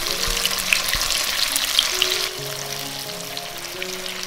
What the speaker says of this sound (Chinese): 油温热了之后呢，把豆腐放下来煎到表面金黄。